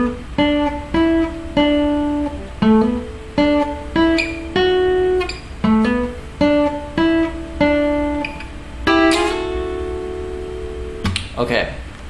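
Solo acoustic guitar picking a lead line, clear plucked notes and short phrases played close and alone, ending with a strummed chord.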